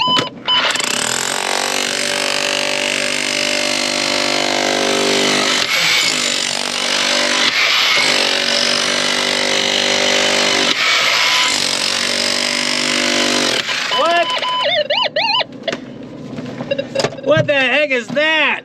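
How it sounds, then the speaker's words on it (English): A hammer drill breaks rock during placer gold prospecting, its loud, steady mechanical roar running for about fourteen seconds before stopping, followed by a few irregular knocks and a voice talking. "The heck with this, I'm getting the hammer drill."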